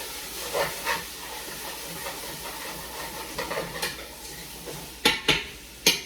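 Habanero, peppers, onions and garlic sautéing in a pot as chili starts cooking, a soft steady sizzle broken by several sharp clanks of a utensil against the pot, loudest near the end.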